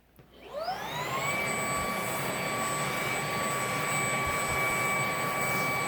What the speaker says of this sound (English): bring my vacuum cleaner over to the chair